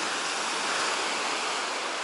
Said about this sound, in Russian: Вот наше море.